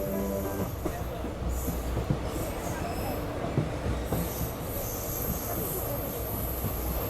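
A passenger train pulls into Vadodara Junction railway station, its wheels rumbling and clattering over the rails with high, sustained squeals of braking wheels, and faint voices under the noise.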